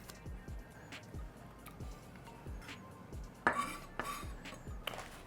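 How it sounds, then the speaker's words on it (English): A knife chops a green onion on a cutting board in a kitchen, giving steady, crisp knocks in a quick regular rhythm, close and fairly quiet, with a few louder clacks toward the end. "now I'm going to cut up this green onion"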